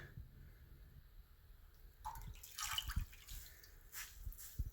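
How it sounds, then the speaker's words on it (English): Tap water runs and splashes while fresh parsley is rinsed under it, a steady soft hiss with irregular louder splatters and drips close by. "rinse this under the water until it is clear"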